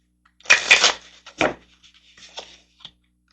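Tarot cards shuffled and drawn by hand: a few brisk papery rustles and slides, the loudest at the start, then softer flicks trailing off in a quiet room.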